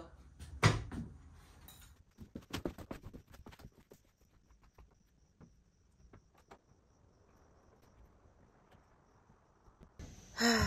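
An old painted wooden kitchen door that is pulling apart is handled, giving scattered knocks, creaks and clunks, some close and sharp, with a sudden loud scrape at the end.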